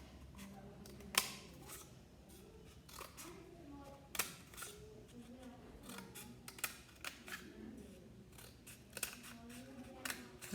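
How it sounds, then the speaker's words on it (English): Scissors snipping through paper while making turkey place cards, with a series of sharp, crisp cuts at irregular intervals, close by and moderately quiet. "take your scissors and you want to cut down"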